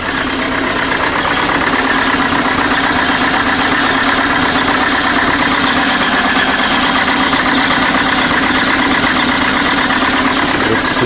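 An engine with a broken cylinder running roughly, a steady loud idle with a harsh, uneven, ragged texture and no change in speed, heard close up.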